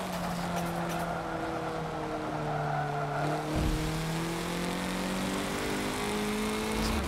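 Race car in Forza Motorsport 7 droning at speed, with a whistling turbo whine riding over the engine tone and a sudden pitch drop midway as the revs fall and rebuild, heard alone at moderate level.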